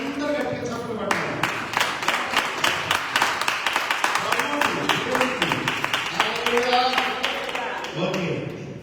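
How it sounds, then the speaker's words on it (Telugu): Church congregation clapping hard in a steady, fast rhythm, many hands striking together in close repeated beats that carry on for several seconds, with a voice leading over them. "నమ్మే వాళ్ళందరూ గట్టిగా చప్పట్లు పట్టాలి"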